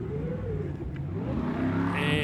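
The engine of a 4x4 vehicle in an off-road challenge course roars under hard acceleration as it climbs over an obstacle, rising in pitch and loudness with a steady mechanical growth and no talk over it.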